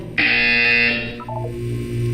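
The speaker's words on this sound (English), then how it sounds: "You will hear a buzzer." A loud, steady electronic buzzer sounds once for about a second in the video game Portal 2, then gives way to softer descending tones over a low background hum.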